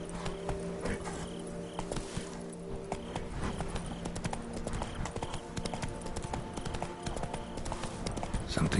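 Roach, a horse in The Witcher 3: Blood and Wine, trots with a steady, even clip-clop of hooves while voices talk over the hoofbeats.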